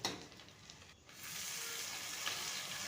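Onions and garlic sautéing in oil in a pan, a steady soft sizzle and crackle running throughout after a brief stir at the start, close and moderately quiet with no talking.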